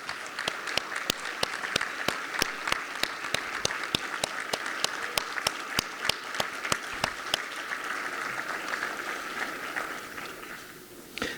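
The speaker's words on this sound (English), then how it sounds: "let's give them a round of applause" A sustained round of applause from an audience honoring scholarship donors at a foundation scholars celebration, with dense, steady clapping and sharp individual claps throughout that taper slightly near the end.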